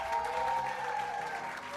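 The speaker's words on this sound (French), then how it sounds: "on l'applaudit bien fort" Applause from a comedy show audience, a steady dense wash of clapping lasting the whole moment, with a sustained tone running underneath.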